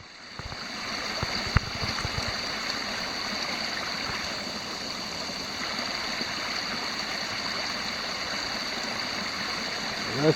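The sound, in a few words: creek flowing water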